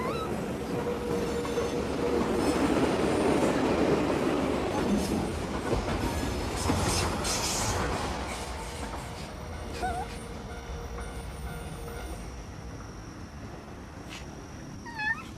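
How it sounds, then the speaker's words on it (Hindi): Trains passing through a Japanese city, with a loud rumbling clatter of wagons and wheels that slowly fades, followed by faint high metallic squeals and tones as the train moves away. "गुजरती ट्रेनों की आवाज"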